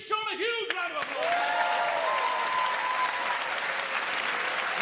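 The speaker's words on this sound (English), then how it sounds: "Give Sean a huge round of applause." Audience at a live magic show breaks into loud, sustained applause that fills the room, continuing steadily after a brief spoken moment at the start.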